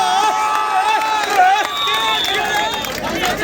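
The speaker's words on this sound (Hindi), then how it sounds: "जोरदार तालियां हो रही" A crowd at an all-India day-night kabaddi tournament cheers and shouts loudly and continuously, with possible clapping buried under the din of many voices.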